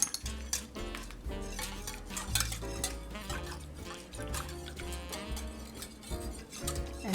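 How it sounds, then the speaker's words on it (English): Stollen dough ingredients and a spoonful of honey get mixed in a bowl, giving busy, continuous clinking, scraping and wet stirring sounds close at hand with no voices. "Okay, so mix it up again."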